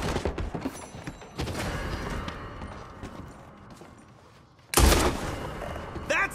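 Gunfire in Red Dead Redemption 2 bursts out loud and close near the end, a sharp cluster of shots after a stretch of busy, muffled game noise with hooves clopping in the mix.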